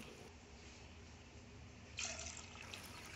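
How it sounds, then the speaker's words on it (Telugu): Three glasses of water being poured into a pressure cooker for pulihora, a steady close splash and trickle that swells louder toward the end, faint overall. "3 గ్లాసులు నీళ్ళు పోసుకోవాలండి."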